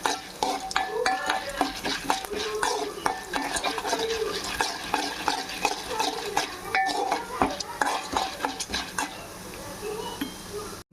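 Spices for coriander chili powder (kothimeera karam podi) stirred and dry-roasted in a pan until golden, with steady scraping and clinking of a metal spoon against the pan over a soft continuous sizzle, close and fairly loud throughout.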